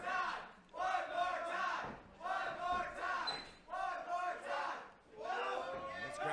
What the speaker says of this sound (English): This crowd is chanting.